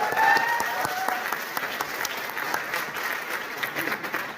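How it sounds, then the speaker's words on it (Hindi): A seminar audience applauds loudly in a dense, sustained wash of claps that continues throughout, with a voice speaking over it. "एक बार जोरदार तालियां यार इनके लिए।"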